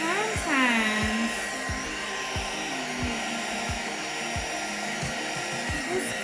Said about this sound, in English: So I'm gonna have my daughter go get my blow dryer.